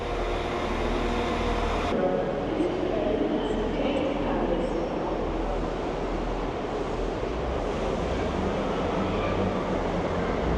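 Steady rumbling roar of a train at a platform, continuous and fairly loud, with faint voices and station bustle mixed in.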